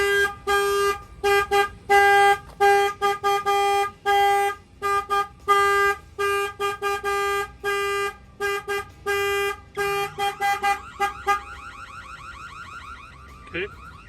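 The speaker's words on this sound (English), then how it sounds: "When the alarm fires off, you will get the alert." A Peterbilt truck alarm going off, loud repeated honking bursts in a steady rapid rhythm, then a shifting warbling siren tone near the end, with no voices.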